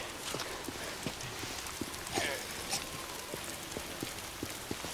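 Steady patter of rain in the video game Days Gone, with scattered drops tapping a surface, constant and moderately loud throughout.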